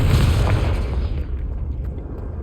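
A Confringo fire spell bursts in a Hogwarts Legacy game as a loud, deep boom that rolls off into a fading rumble, with no voice over it.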